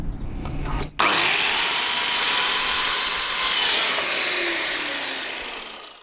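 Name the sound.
power saw cutting wood for workshop shelves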